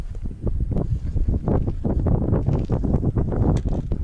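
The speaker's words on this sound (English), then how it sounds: "It's kind of windy up here." Gusty wind on a high spot at Dolly Sods buffets the microphone with a continuous low rumble and roar, loud and close, with no voices.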